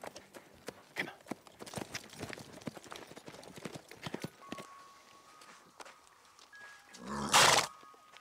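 Horse hooves clip-clop in an uneven rhythm of sharp, fairly close knocks, fading toward the end, followed by a brief loud burst of noise.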